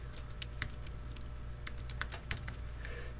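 Keystrokes clatter on a computer keyboard as a user's name and password are entered into a sign-up form, a loose burst of clicks with short pauses over a low steady hum, no talking.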